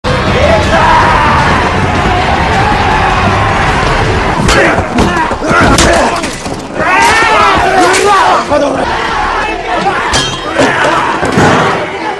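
A crowd of fighters yells "ora" in a brawl film ending, loud bursts of shouting over thuds and impacts, with music and voices layered throughout.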